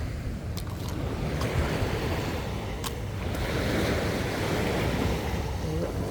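Sea waves washing onto a quiet, empty beach, a steady broad rush of surf mixed with wind noise buffeting the microphone, with a few faint higher splashes.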